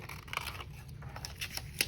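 Scissors cut around a drawn line on paper, giving soft, close snips and crisp clicks at an uneven pace over a quiet room hum.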